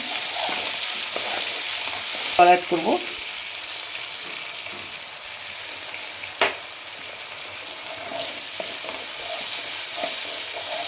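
Onions frying in a pan for cauliflower do pyaza, a steady sizzle with a few stirring clatters and brief knocks, heard close up while a voice speaks briefly.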